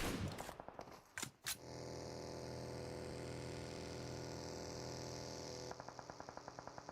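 Gunfire in PUBG Mobile during a competitive esports match: a few sharp shots at the start, then a sustained droning hum and a rapid rhythmic burst of automatic fire near the end, no voice.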